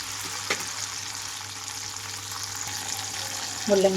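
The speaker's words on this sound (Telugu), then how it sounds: "పచ్చిమిరపకాయలు వేస్తున్నాను మధ్యలోకి కట్ చేసి రెండు మూడు నిమిషాల పాటు వేయించుకుంటున్నాను" Slit green chillies fry in hot oil in a pan, a steady close hiss and sizzle that runs on evenly, with a brief clink near the start and a small stir toward the end.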